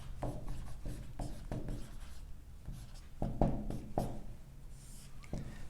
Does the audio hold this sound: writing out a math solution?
yes